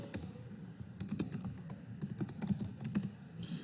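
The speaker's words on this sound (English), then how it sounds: "So I'll just type it in, I guess." Typing on a computer keyboard, a steady run of quick clicking keystrokes at close range, fairly quiet, with no talking over it.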